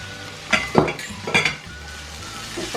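Onions added to hot oil and ghee in a pan, bursts of sizzling with stirring and a clink of a utensil against the pan, rising twice then settling to a low fry.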